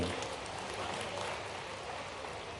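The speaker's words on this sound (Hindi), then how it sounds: "जोरदार ताली बजाओ बहन के लिए भी" Crowd applause at a Ladli Behna Yojana fund-transfer event in Madhya Pradesh, greeting a beneficiary sister; a dense, steady wash of clapping from a large audience fills the whole stretch without a break.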